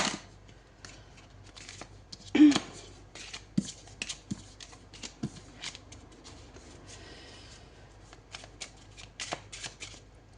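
Playing cards shuffled for a tarot reading, a string of quick riffling bursts and soft card slaps at close range with brief pauses between, no talking.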